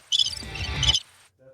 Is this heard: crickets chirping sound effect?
yes